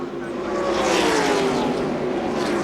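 Stock cars in the 1995 NASCAR Winston Cup DieHard 500 at Talladega Superspeedway roar past in a loud, continuous engine drone with a shifting pitch, like a pack at speed.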